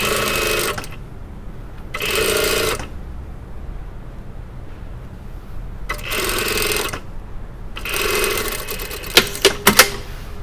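A sewing machine stitches the waist facing of a skirt around a seam allowance, running in four bursts of about a second each with pauses between, close and steady, ending with a few sharp clicks.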